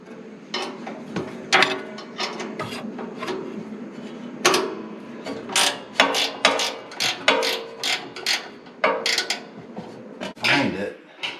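A ratchet wrench works a 7/16 inch bolt on a gas log set, giving clusters of quick metallic clicks and clanks in irregular bursts, close and fairly loud, with no talk over them.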